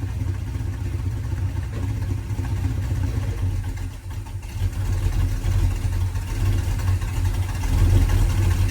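A 1972 Chevrolet Nova engine idling in gear with foot on the brake: a low, steady rumble close by, slightly uneven, swelling a little louder toward the end.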